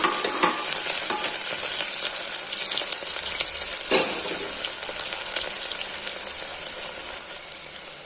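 Three chopped onions hit hot oil and are stirred, producing a loud, dense sizzle with crisp popping and a sharp burst of spatter partway through, fading slightly as it settles.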